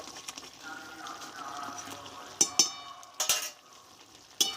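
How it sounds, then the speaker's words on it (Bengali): Vegetable curry of unripe jackfruit being stirred in a pan just after ghee is added, a soft steady sizzle with a few sharp utensil scrapes and clinks near the end. "ঘিটা দিয়ে আমি একটু এভাবে নাড়াচাড়া করে দেবো"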